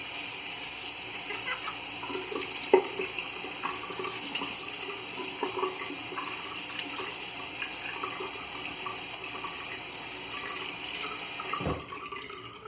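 Running tap water rinses a synthetic shaving brush for a VDH Deluxe soap lather, a steady close splash and hiss that carries through nearly all of the stretch and then stops abruptly near the end.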